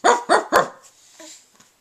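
A person mimics dogs barking with three quick, loud woofs in a row, followed by a couple of softer, trailing barks, like a playful reading of a children's rhyme book.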